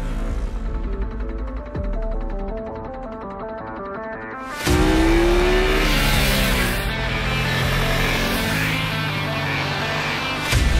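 A 2021 BMW F900 XR motorcycle on the road, engine note climbing through the gears with rising tones, a sharp jump in loudness midway as it accelerates harder, wind noise filling the background.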